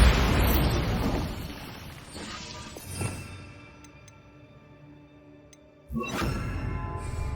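Bombarda explosion spells from the Hogwarts Legacy video game: a loud blast at the start, a smaller burst near three seconds, then another sharp explosive hit later, with crackling tails and faint ticking between.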